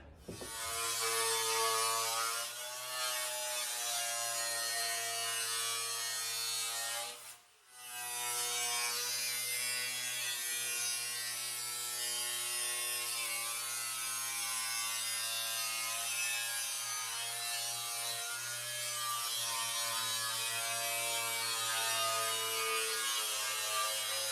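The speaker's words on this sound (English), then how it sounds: "we got to trim that pan down a little bit" Power tool whining steadily while trimming a floor pan on a 1968 VW Standard Beetle, a continuous close buzzing drone with a strong harmonic tone that cuts out briefly once before resuming.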